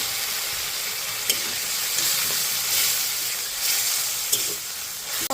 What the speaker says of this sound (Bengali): এবার হালকা একটু জল দিয়ে মশলাটাকে সুন্দর করে কষিয়ে নেব।